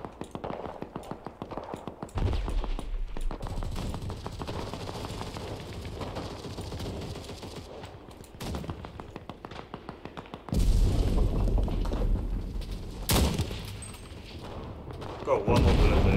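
Gunfire in the war shooter Enlisted comes in rapid bursts of repeated shots and loud booming blasts, with short pauses between volleys and some background rumble of battle.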